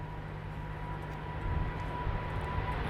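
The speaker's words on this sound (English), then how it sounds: "It's KLM's big Boeing." A KLM Boeing 777-300 airliner at Amsterdam Schiphol Airport: a steady, distant jet engine rumble with a faint whine, swelling slightly louder halfway through.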